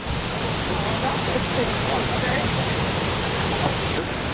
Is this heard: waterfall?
yes